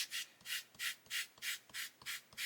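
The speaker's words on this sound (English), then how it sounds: "you actually rub the sanding stick on it" Steady back-and-forth rubbing of a sanding stick on a soft cleaning block, about eight even scraping strokes in a regular rhythm, close and quiet.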